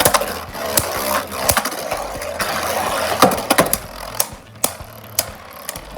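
Beyblade tops with Atomic and Absorb drivers spinning in a stadium, striking the walls in a run of sharp plastic clacks and knocks at irregular intervals over a steady whirring rattle, close and fairly loud.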